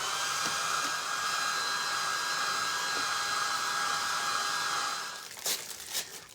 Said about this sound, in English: I'm gonna hit it with a dryer real quick because I can see white glue.